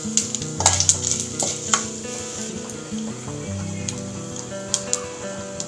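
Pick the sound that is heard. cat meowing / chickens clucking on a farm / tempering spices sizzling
tempering spices sizzling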